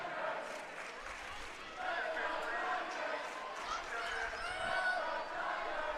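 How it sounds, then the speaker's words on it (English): Swim team members cheering at a high school swim meet, a constant crowd roar with shouts echoing in an indoor pool hall, mixed with talk throughout. "The Fishers team cheering on the Royals"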